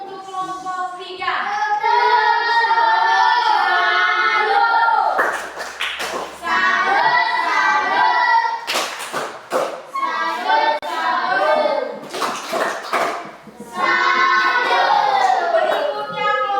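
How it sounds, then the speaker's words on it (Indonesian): A primary school maths class claps a rhythmic salute for a student group in short patterned bursts, mixed with children's chanting voices and a teacher speaking. "tepuk salut untuk kelompok 3"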